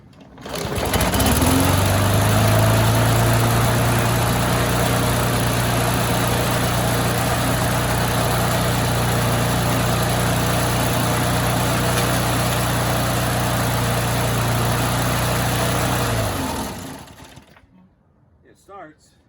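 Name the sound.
Briggs & Stratton EX lawn mower engine running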